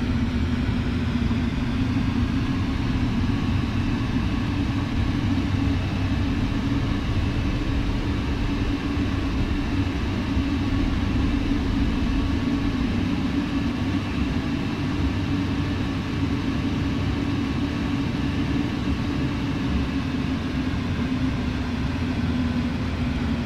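A Boeing 747 taxiing in Flight Simulator X makes a steady, loud jet-engine drone with a constant whine above a deep rumble. It holds unchanged for over twenty seconds, and no voices are heard.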